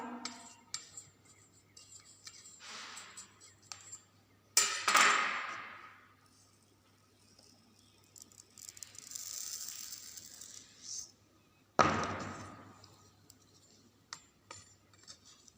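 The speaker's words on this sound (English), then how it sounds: "Level it with the help of spatula without shaking." A spatula scrapes and levels sand in a measuring cylinder, giving several separate gritty scraping and rattling bursts with quiet gaps between them, close and fairly loud.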